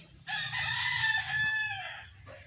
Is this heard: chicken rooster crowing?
yes